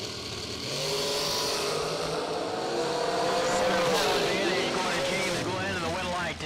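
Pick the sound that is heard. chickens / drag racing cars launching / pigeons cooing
drag racing cars launching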